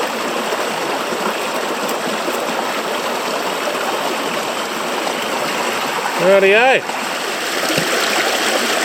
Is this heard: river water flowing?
yes